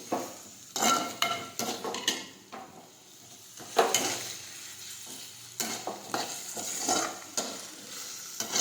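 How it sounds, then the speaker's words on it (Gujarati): Chopped ginger and green chilli sauté in hot oil for baingan bharta, with a soft continuous sizzle broken by repeated sharp scrapes and clinks of a spoon stirring against the pan, some strokes louder and closer than others. "આદુ મરચી નાખીશું હવે આ સાતળી લઈશું"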